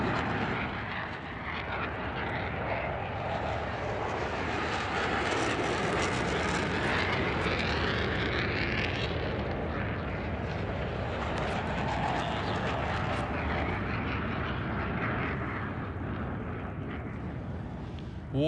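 The Boom XB-1 supersonic test jet climbs away after takeoff, a broad, steady roar of engine and rushing air that swells and shifts slightly as it recedes, continuous throughout with no talk.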